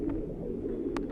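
A female pigeon coos low and faintly in a short murmur, with a brief sharper sound near the end and no voices.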